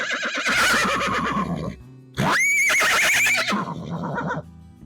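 A young horse, not a stallion, lets out two loud, close whinnies, each a shrill quavering call that drops into a rougher tail, separated by a brief pause, with no voices.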